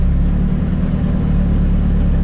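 A Dodge Caravan SRT4 minivan engine pulls away from rest, a loud, steady low rumble with mid-range engine drone that holds evenly throughout, with no talking.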